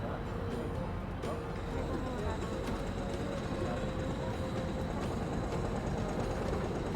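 Steady rumble of the Orient Express train running along the rails, a continuous low rolling drone with faint clicks and a thin tonal whine, voices talking faintly over it.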